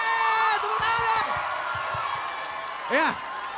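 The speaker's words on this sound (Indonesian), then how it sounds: "Tepuk tangan dong." School crowd cheering, a loud chorus of shouting and whooping children with a few sharp claps, followed by a rising whoop near the end.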